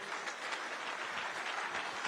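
Audience applause fills a forum hall in Limuru, Kiambu County: a dense, steady patter of many hands clapping, held at an even loudness throughout with no voices over it.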